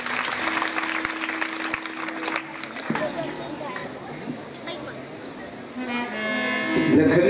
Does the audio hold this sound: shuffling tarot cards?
no